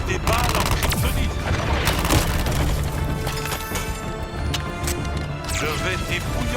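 Gunfire with kryptonite bullets in the Suicide Squad video game, a dense, continuous rattle of shots and impacts heard close and loud under dramatic voices speaking French.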